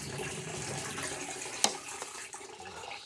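Water running from a tap in a steady rush as soaked beans are rinsed, with a brief clink partway through, close and fairly quiet.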